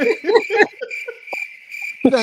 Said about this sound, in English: Come on, give me the crickets.